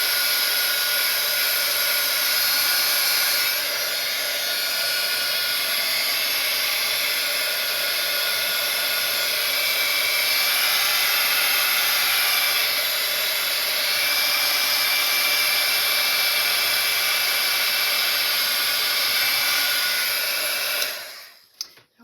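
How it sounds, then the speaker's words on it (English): Hair dryer running nonstop up close, a loud steady airy whir with slight shifts in tone, cutting off abruptly at the very end. "So I'll take the dryer to it again."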